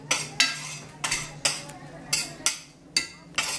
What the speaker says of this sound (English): you see all that scraping or hear all the scraping? That would be my husband in the kitchen.